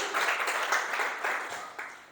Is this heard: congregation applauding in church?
yes